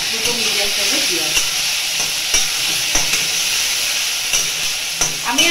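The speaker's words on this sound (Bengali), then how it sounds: "ফার্স্টে পেঁয়াজ আর রসুন বাটাটা আমি দিয়ে দেবো" Onion and garlic paste sizzles loudly in a hot pan for a home-made egg curry, a steady bright frying hiss with occasional stirring scrapes, close and continuous, and no talking.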